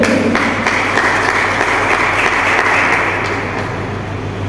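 Audience applause fills a college competition hall at a science college event in Darbhanga, a steady, dense wash of clapping that holds loud for several seconds and then eases slightly, with no talk over it.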